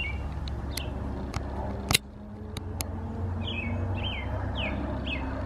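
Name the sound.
bird singing outdoors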